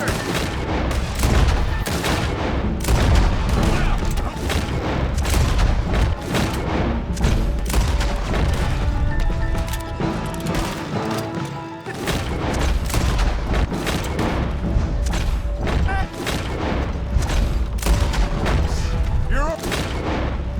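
A battle rages with dense gunfire and booming explosions, volleys of shots and heavy thuds crowding together loudly and continuously, while people shout over the din.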